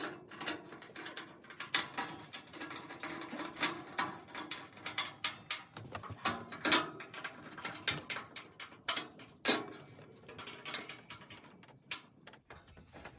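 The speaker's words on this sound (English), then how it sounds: "Phillips head to tighten down." A Phillips screwdriver tightening bolts while a Camp Chef Woodwind WiFi grill is assembled, a close, uneven string of small clicks, ratcheting ticks and metallic taps at a fairly low level, with no talking.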